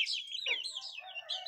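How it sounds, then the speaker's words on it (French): Hens and chicks at a poultry farm give a continuous stream of high, close chirps and peeps, with softer clucking underneath, with no talking. "mes poussins et mes poules sont fiers de moi"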